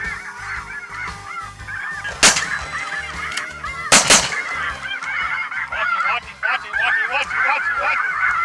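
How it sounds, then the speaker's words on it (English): Many geese honk continuously in a noisy flock during a conservation goose hunt, some near and some farther off, with two sharp gunshots cutting through. "The geese are coming in early, lighting away from us."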